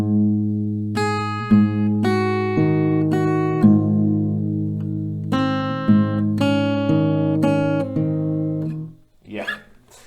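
Slow picked notes on an acoustic guitar spell out the G pattern of a song, single notes ringing clearly one after another before a brief soft rustle at the end.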